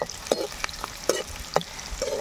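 Chopped onions and green chillies frying in hot oil in a pan for a traditional crab curry, with a steady crackling sizzle broken by repeated stirring scrapes and clinks. No talk.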